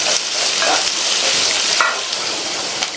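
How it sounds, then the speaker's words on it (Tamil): Onion slices and a few curry leaves sizzle in oil with a loud, continuous frying hiss, while a spatula stirs them in occasional scraping strokes up close. "இந்த வெங்காயத்தை 2 நிமிஷத்துக்கு நல்லா எண்ணெயிலேயே வதக்கி விட்டுக்கோங்க"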